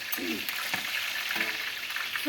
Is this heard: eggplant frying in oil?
yes